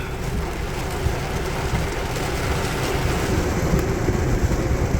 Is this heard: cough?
no